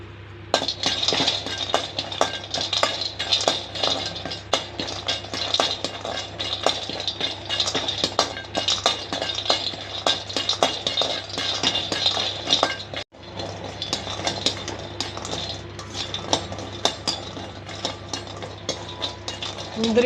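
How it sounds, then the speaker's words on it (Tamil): A spoon scrapes and clinks steadily against a metal pan as cashews and almonds are stirred while roasting, a dense continuous rattle at close range with no talk. "முந்திரியும் பாதாம் வறுத்துக்கலாம்."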